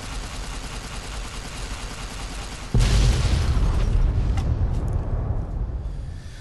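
A laser detonator explosion in Fallout: New Vegas: a sudden loud boom breaks over steady background noise partway through, then a rumbling blast decays slowly over several seconds.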